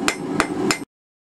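A hammer flattening a hot steel J hook, three ringing metallic blows in an even rhythm, loud and close, then abrupt silence.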